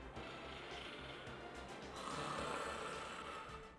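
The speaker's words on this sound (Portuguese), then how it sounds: "Qualquer disfunção, tanto na inspiração quanto na expiração, principalmente na expiração, vai produzir ronco." A person snoring during sleep: slow, rough breathing rumbles, fairly faint, with one longer, stronger exhalation partway through, set against a low background hiss.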